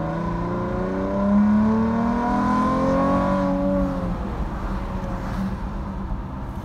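A Dodge Challenger's V6 engine at wide open throttle, a steady rising drone that climbs in pitch as the car accelerates and then eases off, fairly close and with no talk.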